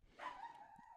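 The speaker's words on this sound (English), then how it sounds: "I don't know if you can hear my dog barking" A dog gives one drawn-out bark or whine, faint and somewhat distant, rising then trailing off over about a second.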